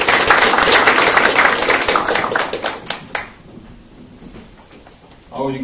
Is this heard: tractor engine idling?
no